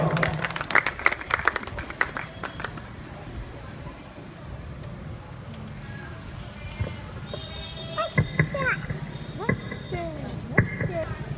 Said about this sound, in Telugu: గట్టిగా చప్పట్లు కొట్టి వారిని దేవుని వాక్యం వరకు ఆహ్వానిస్తాను